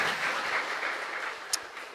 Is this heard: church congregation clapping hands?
yes